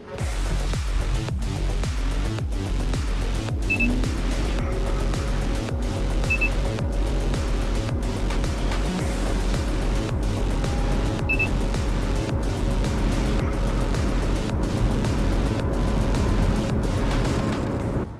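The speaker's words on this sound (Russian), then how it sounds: "это тот режим, когда мы принудительно включаем сразу бензиновый двигатель" A Mitsubishi Outlander PHEV hybrid SUV accelerates with its petrol engine forced on, humming steadily from inside the cabin for a long stretch, with road noise and a few faint electronic beeps.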